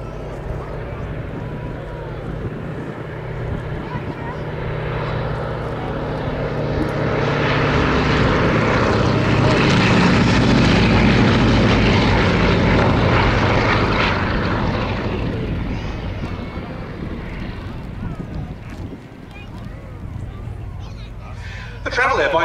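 Propeller engine of a Travel Air D4000 biplane flying past at an air show, a steady droning roar that swells loud as it passes close, then fades away.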